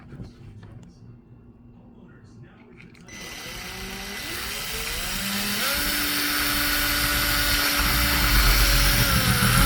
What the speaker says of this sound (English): So I got to drill another hole right here.